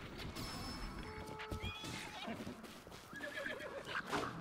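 A horse in the video game Zelda: Breath of the Wild neighs and whinnies, a fairly faint, brief call mixed with game clatter and a soft voice in the background.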